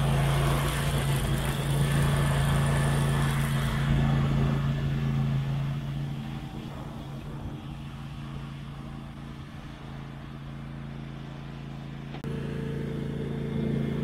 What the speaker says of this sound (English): the tractor's doing well to actually push that out of the way